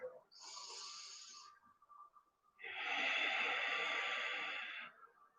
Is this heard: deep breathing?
yes